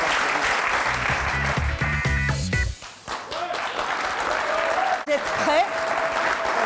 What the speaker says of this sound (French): Bien, ben on les applaudit tous.